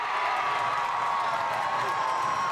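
Arena crowd cheering on the underdog Kazakhstan side during a women's ice hockey bronze match against Germany at Innsbruck 2012, a dense, continuous roar of many voices filling the space without pause.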